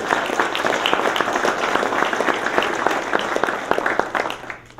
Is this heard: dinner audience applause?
yes